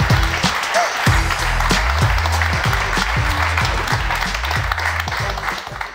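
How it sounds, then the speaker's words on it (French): An audience at a live evening show in Mulhouse breaks into sustained, full applause to welcome a guest, dense clapping running steadily throughout with a low musical backing beneath it. "On va juste l'accueillir par de gros applaudissements."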